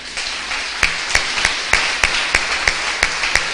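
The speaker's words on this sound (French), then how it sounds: "Applaudissez pour lui" A house church congregation claps in scattered, sparse single claps spaced about a third of a second apart, fairly near and moderate in level, with no voices over them.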